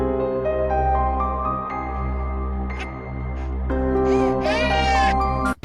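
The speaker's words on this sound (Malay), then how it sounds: "mereka sering mendengar suara tangisan kanak-kanak pada waktu tengah malam" A child crying as a sound effect, loud and sustained with wavering wails over a steady low drone, rising into higher sobbing cries near the end.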